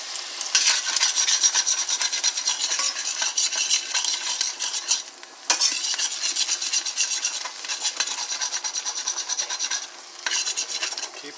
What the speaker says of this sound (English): what we're going to do now is deglaze the pan with a little vinegar